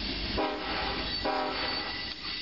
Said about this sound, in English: there goes another BNSF coal train.